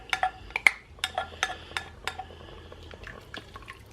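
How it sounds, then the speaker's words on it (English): Gravy mixture and beef stock are stirred in an Instant Pot on saute, with a series of sharp metallic clinks of a utensil against the pot and soft liquid sloshing, close and irregular. "Just going to stir it"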